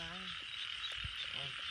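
Small frogs croak at night in an outdoor field, several short scattered calls over a constant high hiss of insects and night ambience, with no talk.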